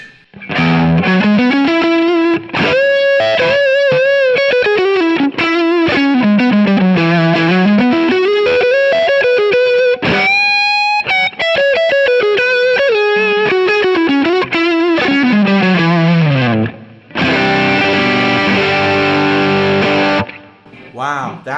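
Electric guitar through a Kingsley Minstrel overdrive pedal with the gain set at 12 o'clock, playing loud, thick distorted chords and sliding lines continuously for about twenty seconds, with a brief break near the end.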